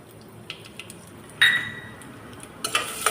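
A spoon stirs urad dal, peanuts and mustard seeds frying in a pan, giving faint scrapes and a few sharp metallic clinks over a soft sizzle.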